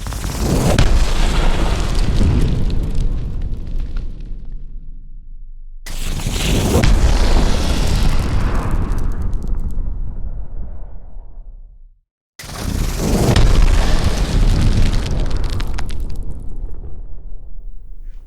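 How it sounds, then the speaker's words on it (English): Fire-themed sound-effect preset built from a small spinner firework and a sizable fire whoosh: three loud, booming bursts with roaring, swooshing tails, separated by brief gaps, with no voices. "the main sound that you hear at the beginning, I think, is this, which is a small spinner firework. Pretty sizable fire whoosh"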